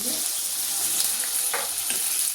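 Potatoes fry in oil in a pan, giving a steady, close sizzle with a few brief crackling bursts and stirring clicks, and no one speaks.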